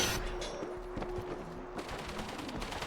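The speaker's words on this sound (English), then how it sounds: "මේ මෙතන machine ගන් set කරන්න තියෙනවා." Rapid machine gun fire rattles in the zombie shooter World War Z, a fairly quiet, dense burst of repeated shots over a continuous game soundscape.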